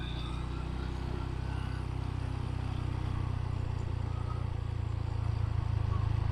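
A motorcycle rides slowly into the parking area of Masjid Namira mosque, its engine a steady, low, close rumble that holds throughout with no clear revving.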